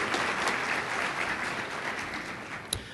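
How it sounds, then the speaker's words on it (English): An audience at a Special Olympics Virginia awards celebration claps in a full, sustained round of applause, dense and even from start to finish with no talking. "Let's give them a round of applause."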